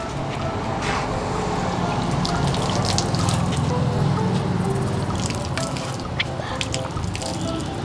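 A little water is poured into rice for Odia pakhal bhaat, making a loud, continuous splashing trickle that runs the whole time with small drips near the end.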